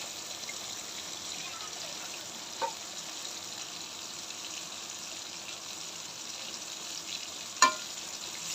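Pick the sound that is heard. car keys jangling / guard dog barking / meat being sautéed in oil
meat being sautéed in oil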